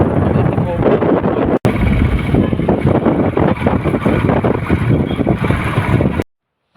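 Steady roar of an engine with heavy wind buffeting, like riding a motorbike at speed, loud and continuous, with a brief dropout and an abrupt cutoff.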